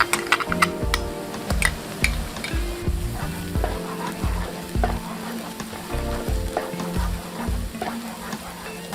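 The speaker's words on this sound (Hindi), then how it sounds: "इसको 1 से 2 मिनट के लिए हम और भूनेंगे" Chopped onions with ginger garlic paste sautéing in a pan, a close, crackling sizzle broken by repeated rhythmic scrapes and taps of a spatula stirring, no talking.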